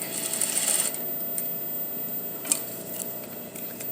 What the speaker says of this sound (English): I'm going to start at the bottom, the back tack, and then I'm going to sew all the way up, back tack